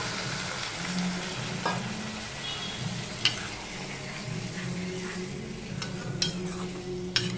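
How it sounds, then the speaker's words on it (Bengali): Fish-head curry with papaya and potato sizzles steadily in the pan after a little water goes in, a continuous close frying hiss with a few sharp utensil clicks and taps, no voices. "এবার আমি অল্প জল দিয়ে দিলাম।"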